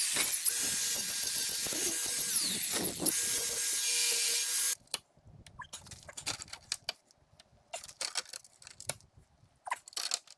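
A sheet of diamond plate is scored so it can be bent, with a harsh, continuous scraping and grinding for several seconds, then stopping abruptly and giving way to sparse scratches and clicks.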